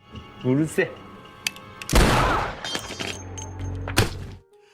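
A pistol fires a single shot in a film scene, one loud booming thud landing amid a dense, busy soundtrack with voices and other thumps around it.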